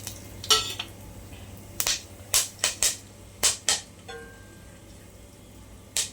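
Sharp, scattered pops and crackles burst out irregularly, a few close together then pausing, over a quiet background hiss as cinnamon, bay leaf, cloves and cardamom spit in hot oil for a vegetable biryani.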